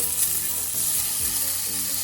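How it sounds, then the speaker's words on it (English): Small batches of pork for adobada sear in a hot skillet, a steady, loud, close sizzle and crackle of frying that runs without a break. "I've got a nice hot skillet going, and I'm just gonna do the meat in small batches because I want them to get a nice sear"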